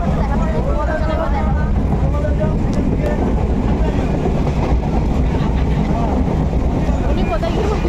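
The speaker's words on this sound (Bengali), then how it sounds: "আমরা ট্রেনের মধ্যে উঠে পড়েছি" Inside a moving train bound for Tarakeswar, a loud, unbroken rumble fills the carriage, with indistinct voices murmuring beneath the steady roar.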